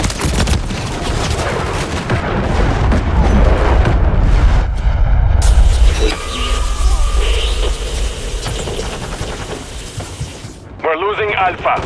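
Dense game gunfire from a SIG MCX SPEAR rifle and other weapons in a Modern Warfare 3 beta Domination match: sustained rapid shots and booms, loud and close, with callout voices over the din and a brief lull near the end.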